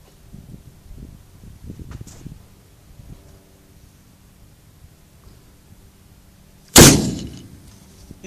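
A 1 3/4 inch cannon loaded with half an ounce of powder and a ball fires a single loud, sharp blast outdoors, ringing briefly after a stretch of quiet rustling and faint background sounds.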